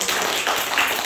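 An audience claps together in a short, dense burst of even applause.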